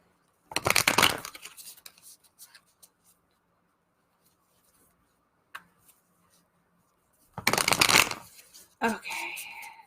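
Two bursts of playing cards being riffled and shuffled up close, separated by quiet handling noises, with a voice briefly at the end.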